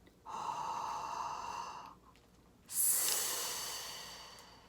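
A long, steady breath drawn in, a short pause, then a loud hissing exhale that slowly fades, close and alone.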